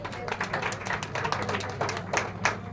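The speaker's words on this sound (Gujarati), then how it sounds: "અશ્વિનભાઈ માટે પણ તાળી પાડીએ આપણે." Audience at an event clapping for a sponsor, a steady patter of handclaps running throughout, moderately quiet and somewhat distant.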